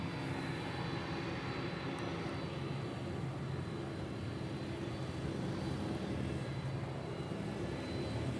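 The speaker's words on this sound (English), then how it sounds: "So we're getting a full load of F-22s today." F-22 fighter jets at Honolulu airport, a steady, continuous low roar of aircraft engines that stays fairly even and distant throughout, with no talk.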